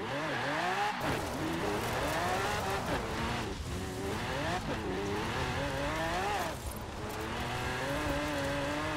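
A Mosler on dirt tires and dirt springs races in Forza Horizon 4, its engine loudly revving and shifting up and down with tire squeal and skidding throughout.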